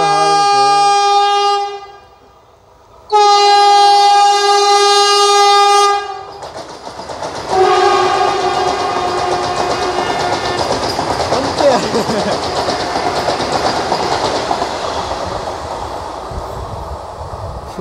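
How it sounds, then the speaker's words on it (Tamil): A Vande Bharat express train sounds two loud, sustained horn blasts, then rushes past at speed with a roaring, rattling clatter of carriages that fills the rest of the passage. "வந்தே பாரத் வந்துட்டுருக்கேன்னு நினைக்கிறேன்."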